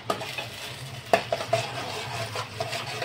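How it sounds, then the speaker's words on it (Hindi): Grated ginger stirred into a tomato-onion puree masala in a pan, with a few scraping clinks of a spoon against the pan over a soft, steady sizzle. "और इसे चलाएंगे"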